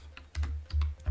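Close, quick keystrokes on a computer keyboard, a handful of soft clicks in short clusters over about a second, with no talk.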